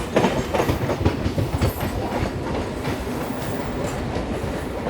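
Passenger train running on a parallel track near Chennai Central, heard as a continuous close rolling rumble with rhythmic wheel clatter at the start, steady and loud throughout.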